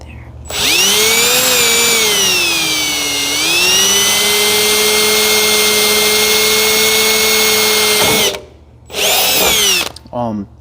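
A loud electric drill whines steadily for several seconds, its pitch dipping and settling, then cuts off before a second short burst of drilling.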